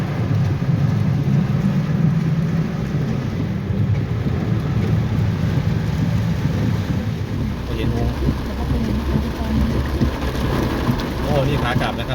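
A heavy rain pours down outdoors with deep low rumbling, a dense steady roar heard from under a domed shelter, with occasional voices in the background.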